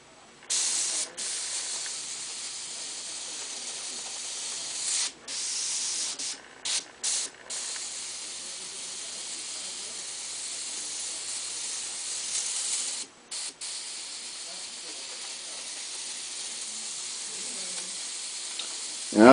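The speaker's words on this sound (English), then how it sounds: "you can blow some air through, pull that trigger back, and it's going to mix your paint in the cup" An airbrush hisses in loud bursts as air blows through and paint mixes in the cup, with several short stops and restarts between long steady sprays.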